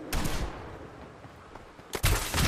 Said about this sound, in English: Why am I being shot at?